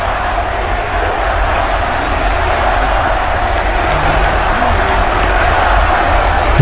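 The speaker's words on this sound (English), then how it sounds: "And the crowds that are gathered in St. Peter's Square still arriving." A large crowd gathered in St. Peter's Square, Vatican City, for a new pope's first blessing: a loud, steady roar of many distant voices and cheering that swells slightly, with no clear single speaker.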